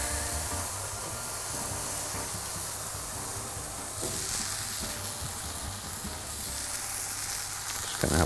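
Lion's mane mushroom steak searing in an oiled frying pan, giving a steady, fairly loud sizzle and hiss that runs unbroken throughout with no one talking.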